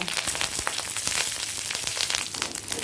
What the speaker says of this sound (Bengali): দিয়ে দেব সর্ষে ফোড়ন আর দিচ্ছি ফ্রেশ কারি পাতা